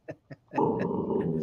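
A dog growls and whimpers close to the microphone, starting with two short yips, then breaking into a sustained, loud, rumbling growl that lasts to the end. No one is talking.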